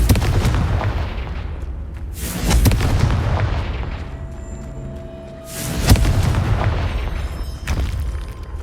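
A Confringo fire spell from the game Hogwarts Legacy bursts in repeated loud, booming explosions, with strong blasts near the start, around three seconds and near six seconds, each trailing off in crackling rumble.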